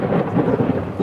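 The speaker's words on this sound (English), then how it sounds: "The thunder scared the giraffe." Thunder rumbling at Disney's Animal Kingdom, a deep, loud, continuous roll of low rumble with no speech over it.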